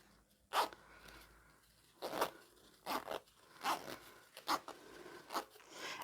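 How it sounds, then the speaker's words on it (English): A zip is drawn closed in a series of short rasping pulls, about seven separate bursts spaced roughly evenly, close and clear with quiet pauses between. "closing the zip"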